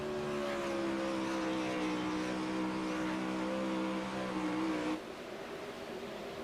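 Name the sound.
360 sprint cars racing on Bristol dirt track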